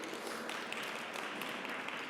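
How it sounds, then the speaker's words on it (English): Applause for a panelist at a research centre launch event, a faint, steady wash of many hands clapping in a hall, heard from a distance. "Please give a round of applause to Professor Masinde."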